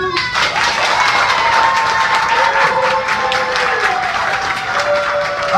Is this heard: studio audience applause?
yes